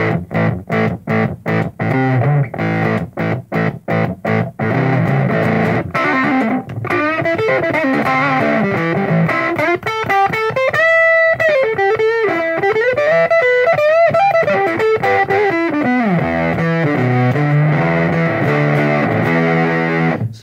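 A sine wave tone run through a guitar distortion pedal: buzzy, heavily distorted, first chopped into rapid pulses, then held and sliding up and down in pitch, loud and harsh throughout.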